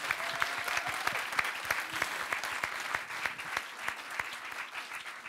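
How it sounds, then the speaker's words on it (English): Audience at a circus festival applauds a performer, with dense, steady clapping and crisp individual claps across the whole stretch, loud and close, and no talk over it. "Okay, can I give one more big applause for Sanne?"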